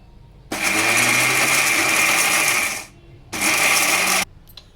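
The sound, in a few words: mixer grinder grinding whole spices for garam masala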